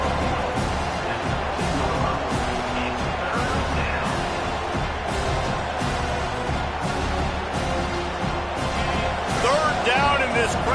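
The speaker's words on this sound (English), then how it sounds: "this crowd is turning it up a notch" A football stadium crowd roars and cheers steadily throughout a game, loud and continuous under a commentator's voice, with scattered thumps and shouts in the din.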